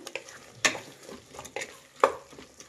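Potato pieces cut into thick chunks being stirred in a frying pan for aloo peas rice bath, with two sharp scraping clatters of the spoon over a soft background sizzle.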